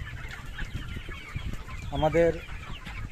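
Sonali chickens cluck in a farm setting, a short burst of clucking rising over steady background noise partway through, with a voice speaking briefly alongside.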